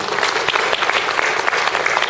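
An audience claps for a guest introduced at a Won Buddhist gathering, a dense, loud burst of applause sustained evenly for about two seconds, close and full, with no voices over it.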